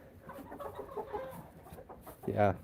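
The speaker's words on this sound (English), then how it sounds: "Here's an alien hen, by the way." A hen clucks once, close and fairly loud, after a stretch of quiet background murmur.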